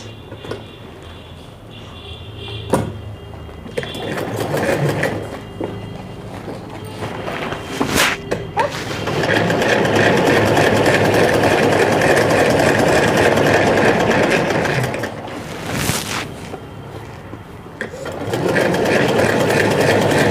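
A sewing machine stitches a bag made from a reused flour sack. Its motor whirs in long, steady, loud runs, broken by pauses with handling clicks and fabric rustle, and there is no talking.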